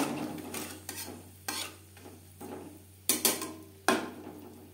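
Green chillies fry in oil over a low flame, with a soft hissing sizzle broken by several sharp spattering pops and stirring scrapes, heard close and quiet over a steady background hum.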